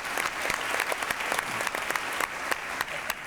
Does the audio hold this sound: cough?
no